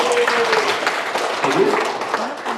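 Applause from an audience at a family magic and skit show, loud, steady clapping that runs throughout, with voices speaking over it.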